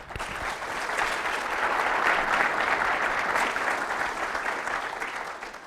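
A conference audience claps in sustained, even applause that swells slightly and holds at a fairly loud level for several seconds.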